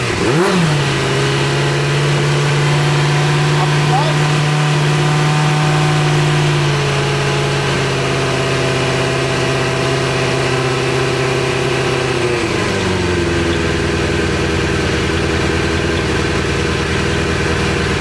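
A Suzuki Bandit motorcycle engine runs loud and close at a steady idle on choke, settling to a lower idle partway through.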